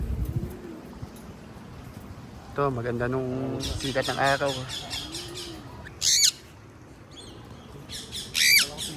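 Indian ringneck parakeets fly with pigeons above a rooftop, giving loud, shrill squawking bursts among softer pigeon coos, while someone speaks nearby.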